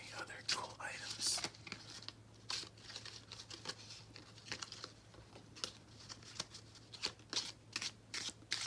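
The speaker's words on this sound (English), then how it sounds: "let's shuffle these cards a couple more times" Playing cards are shuffled close up in a quiet room, a series of quick riffling bursts and soft snaps repeating every second or so, with faint whispery handling between.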